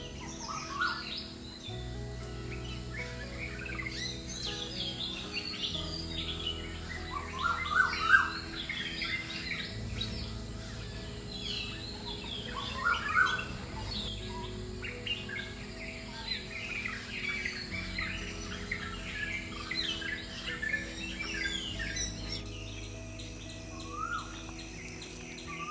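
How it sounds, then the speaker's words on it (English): Morning forest in Periyar Tiger Reserve, Kerala, filled with many birds chirping and calling at varied distances, steady layered song with occasional louder close calls over a faint insect hum. "accompanied by the chirping of birds"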